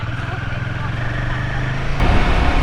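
Steady low drone of a motorcycle engine running, loud and close with a pulsing throb and wind-like roar, rising slightly near the end; speech is faintly mixed in.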